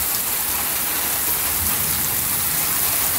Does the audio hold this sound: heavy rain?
yes